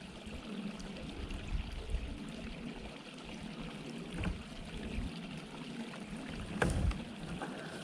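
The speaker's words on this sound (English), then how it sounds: "this little stream flowing in here" A small stream trickles and flows steadily into a reservoir cove, a soft continuous wash of water with occasional light splashes, close by and without voices.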